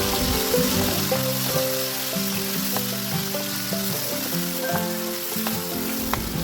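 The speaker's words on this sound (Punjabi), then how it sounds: "ਹੁਣ ਆਪਾਂ ਇਹਨੂੰ ਚੰਗੀ ਤਰ੍ਹਾਂ ਭੁੰਨ ਲਵਾਂਗੇ ਮਸਾਲੇ ਨੂੰ" A masala paste of onion and tomato fries in oil in a pan, giving a continuous close sizzle with light stirring movements underneath.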